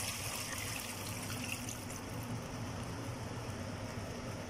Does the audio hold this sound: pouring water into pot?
yes